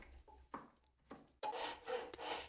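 A hand rip saw cuts wood along marked lines beside a tenon on a Shaker-style door frame, giving a few separate rasping strokes, the last ones longer and louder, with no talking.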